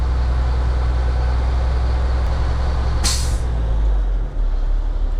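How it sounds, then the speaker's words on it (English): Air brake system on a Class B truck at idle during a pre-trip inspection, with the compressor governor kicking out as one sharp, loud hiss of released air over a steady low engine rumble. "That was the governor kicking out."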